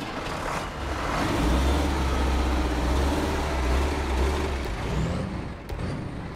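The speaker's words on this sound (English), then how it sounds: "the AK-12 engine, which sounds like a gun and whirs into life with a beep, a pause, and then a spot of thunder." The AK-12 engine of a Navistar 5000-MV truck in the SnowRunner game starts up with a deep, steady rumble that swells and holds, then ends with a sharp hiss.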